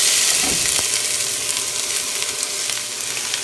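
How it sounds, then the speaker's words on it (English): Onions sizzle steadily and loudly in a pan of extra virgin olive oil for marinara sauce, a dense close hiss with a few soft pops, with no voices. "a few tablespoons of olive oil, and I'm using extra virgin. And then what I'm going to do is going to add my onions"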